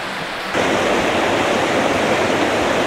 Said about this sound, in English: There we go, proper waterfall.